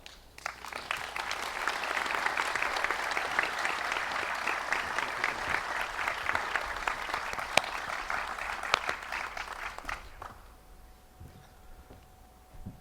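An audience at an outdoor village blessing and ribbon ceremony applauds steadily, a dense, sustained wash of clapping that holds for about ten seconds before tapering off into quiet.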